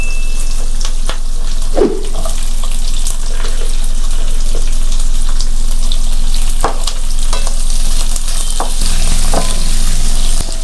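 Capsicum wedges sizzle loudly and steadily in a hot pan for egg chilli, a continuous frying hiss with occasional stirring clatters and scrapes, no voices.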